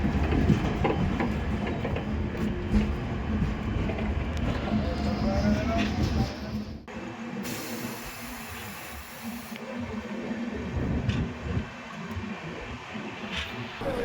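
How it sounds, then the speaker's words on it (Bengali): Sealdah-Puri Duronto Express train arriving at a station, a loud continuous rumble and hiss of rolling wagons with occasional clacks and a brief high whistle-like tone partway through, close by. "চলো ট্রেনটা ঢুকছে, আগে ট্রেনে উঠি"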